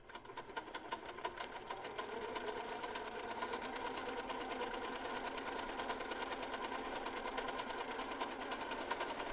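A sewing machine free-motion quilts a spiral pattern on a flower quilt block, giving a fast, steady mechanical whir of stitching that runs on without a break. Stitching stays quiet but constant, with no voices.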